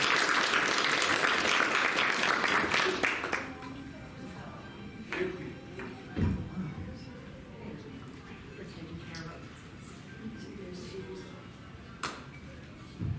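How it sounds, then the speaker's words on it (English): Audience applause after a tai chi presentation and demonstration, a short burst of clapping from a modest crowd that fades within a few seconds, followed by scattered taps and quiet room noise with speech. "So let's give a round of applause for Herb."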